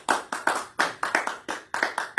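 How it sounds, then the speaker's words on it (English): Sharp hand claps come in a quick, uneven rhythm, about a dozen close strikes, sounding like a few people clapping rather than a large crowd, as audience applause at the end of a talk on cyber security. "Let's all give Mike a round of applause."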